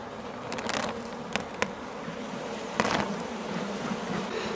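Honey bees buzzing steadily around an opened beehive during the first spring inspection of the year, a dense continuous hum with a few louder close passes.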